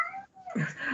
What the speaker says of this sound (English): Sorry, that's my cat meowing in the background.